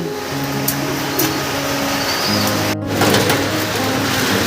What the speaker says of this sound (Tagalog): Ambon lang yan.